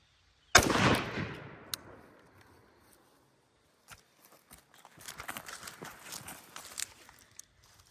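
A single loud, close rifle shot cracks out during a torture test of a Cylee Optics GHOST HDG rifle optic, then rings away; light shuffling and scattered footstep-like noises follow.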